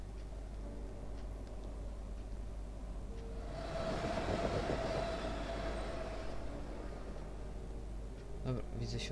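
An underground metro train rumbles past inside a horror video game, a broad swelling roar rising around four seconds in and fading away by six, over a steady low hum and faint ambient music, with a few brief ticks near the end.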